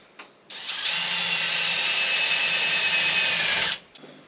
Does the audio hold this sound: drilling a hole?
yes